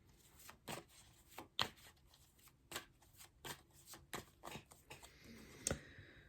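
Tarot cards shuffled and drawn from a deck, a faint close series of soft riffling flicks and snaps at an uneven pace, with no voice.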